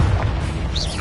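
A Confringo blasting spell from Hogwarts Legacy goes off as a loud, close, rumbling burst with a sustained low boom and a brief bright swish near the end.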